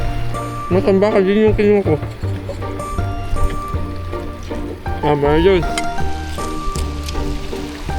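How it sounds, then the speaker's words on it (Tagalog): Heavy rain pours steadily during a fishing trip, a constant hiss of drops on surfaces beneath the close, lively talk of several people. "Lakas na yung ulan"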